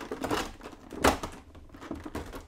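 A Funko figure being unboxed from its packaging, with crinkly plastic and cardboard rustling and a sharp snap or tear near the middle, close and moderately loud.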